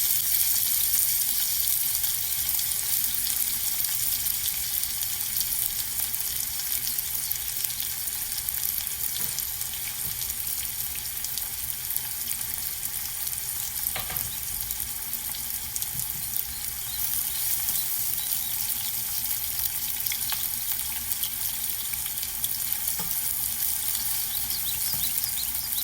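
Onion goes into a pan of cumin seeds that are turning golden brown, giving a steady, loud sizzle that holds evenly from start to finish with no voices.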